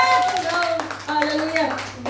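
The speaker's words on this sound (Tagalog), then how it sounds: "Pumalakpak." Church congregation clapping during a Sunday worship service, a brief burst of applause that mixes with voices and speech throughout.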